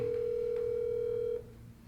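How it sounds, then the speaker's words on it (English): Telephone ringback tone on an outgoing call, one steady electronic tone lasting over a second, then stopping and leaving quiet line noise. "All right, so we're giving them a phone call."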